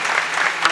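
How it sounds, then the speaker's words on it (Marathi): Audience at a kirtan gathering breaks into loud, dense clapping, a brief burst filling the hall. "एकदा टाळ्या झाल्या पाहिजे जोरात"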